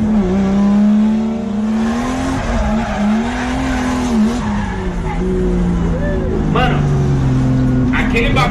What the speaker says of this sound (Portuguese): Vamos ver eles fazendo drift.